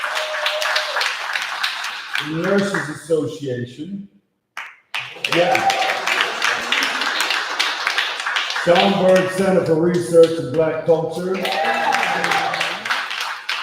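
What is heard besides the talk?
press conference audience applauding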